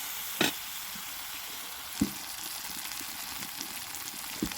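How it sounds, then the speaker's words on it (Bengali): Masala with garlic and ginger paste frying in a pan for an egg curry, a steady sizzle broken by a few sharp spoon scrapes and taps against the pan. "এবার এটাকে আমি আরও ভালো কিছুক্ষণ মশলাটাকে কষিয়ে নেব"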